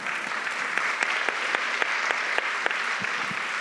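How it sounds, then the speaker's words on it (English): An audience claps steadily at a literary event with an author, a dense, even patter of many hands that stays at a constant level throughout, heard from within the room with no talk over it. "Let's keep the applause going for Kin."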